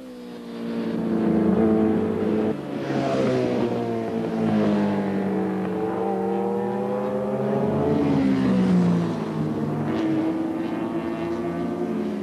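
Suzuki racing motorcycles roar past at the 1985 Le Mans 24 Hours, their engines rising and falling in pitch as they come near and pull away one after another, loud and continuous, with no talk.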